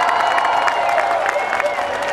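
Crowd applause and cheering at Israel's 60th Independence Day celebration in Rabin Square, Tel Aviv, a dense, steady wash of clapping and voices from a large outdoor audience, with a bright tonal layer running beneath.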